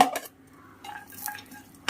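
Cashews drop into a pan of hot oil after fried onions, a couple of quick clinks and scrapes followed by a faint brief sizzle, close and short.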